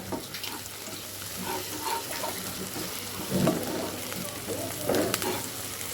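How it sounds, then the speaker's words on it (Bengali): Ground cumin paste and spices fry in oil in a pan, a moderate sizzle with stirring scrapes and a few louder bursts midway and toward the end. "মশলাগুলো ভালোভাবে ভেজে নিচ্ছি তেলের উপর তেলে উপর মশলাটা ভেজে"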